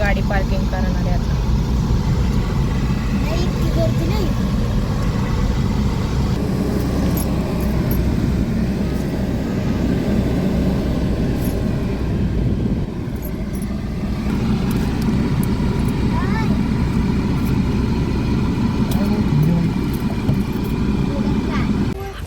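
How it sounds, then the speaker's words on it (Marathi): A car drives slowly into a parking area at a temple, its engine a steady low rumble up close, with traffic and crowd noise around and people talking over it. "तर गाडी पार्किंग करणार आहे आता."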